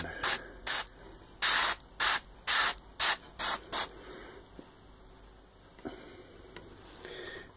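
Paint spraying onto a miniature fantasy figure, probably from an airbrush: a quick series of about ten short, close hissing bursts in an uneven rhythm, then a faint steady hiss afterward.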